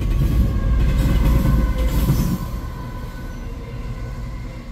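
A CN freight train rolls steadily past at Ladysmith, its rail cars rumbling loud and close with rhythmic wheel clatter and faint squeal as the tail end approaches the rear DPU locomotive.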